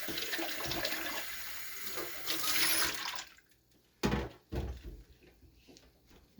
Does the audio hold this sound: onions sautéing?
no